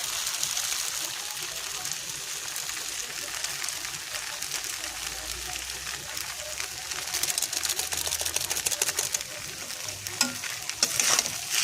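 Maggi noodles stir-fried with Maggi masala seasoning, with steady close sizzling and stirring scrapes running throughout and a few sharper clinks near the end; a voice speaks faintly underneath.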